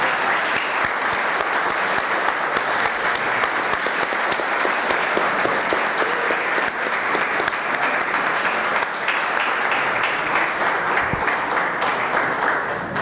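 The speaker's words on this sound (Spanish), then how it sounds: "Vamos encerrar então e dando uma salva de palmas e agradecendo o professor Néstor." A seated audience gives a long, steady round of applause to close a talk on spirituality and culture, dense and even clapping that fills the room without a break.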